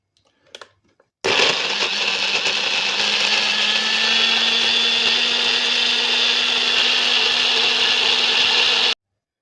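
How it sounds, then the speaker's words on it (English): Following a few soft knocks, a blender starts and grinds dates with coconut oil in one loud, continuous high-pitched whir lasting about eight seconds, then cuts off abruptly. "I put the coconut oil in with the dates to see if they grind up together better"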